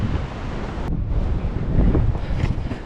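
Wind buffets the microphone over steady surf and rolling waves along the sea at Diu Fort, loud and continuous with no voices.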